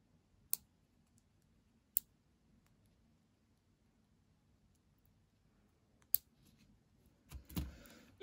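Fingernails snipped with a nail clipper at home, a few sharp isolated clicks spaced seconds apart in a quiet room, followed by some brief rustling handling noise.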